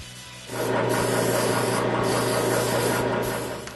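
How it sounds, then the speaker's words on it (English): Rhythmic scratchy rubbing of sandpaper across a lacquered wooden intarsia plaque between coats, steady back-and-forth strokes starting after a short quiet moment, close up with no voices. "I sand between coats."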